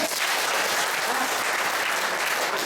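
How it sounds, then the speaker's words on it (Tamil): Crowd of attendees at a naturopathy health camp in Madurai clapping their hands together, a continuous dense burst of applause at close range with no talk. "நான் மாற போறேன்னு சொல்லவங்க மட்டும் ஓகே கைதட்டுங்க"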